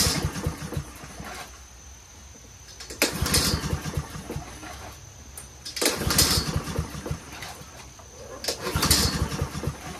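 Honda-powered Troy-Bilt 21-inch front-wheel self-propelled lawn mower being pull-started on choke: three separate rope pulls about three seconds apart, each a brief rasping crank burst over quiet gaps, without the engine catching and running.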